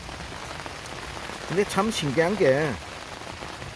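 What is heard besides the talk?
rain falling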